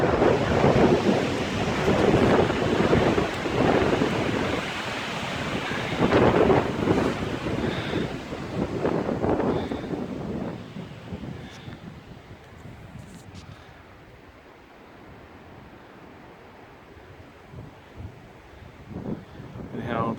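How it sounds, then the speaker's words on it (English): Strong gusty wind buffets the microphone beside a lake, heavy rumbling roar early on that eases to a lighter steady rush later, with someone talking in places. "the wind's so bad."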